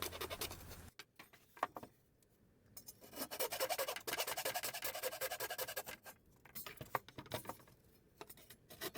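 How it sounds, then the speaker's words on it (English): Hacksaw cutting through the plywood tabs holding CNC-cut letters, heard as a rough rasping stroke sequence, loudest in a sustained run mid-way and then in shorter bursts, close and without speech. "All of the tabs need to be cut with a hacksaw to release the letters."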